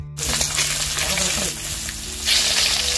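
Fish or vegetables going into hot oil in a wok in a home kitchen, a steady close sizzle and crackle of frying that swells louder near the end, with a faint hum underneath.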